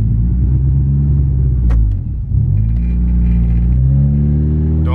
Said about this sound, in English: the car's starting to misfire and stuff, so she's probably got no voltage